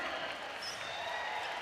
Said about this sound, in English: Westbeld returns to another roar from the crowd.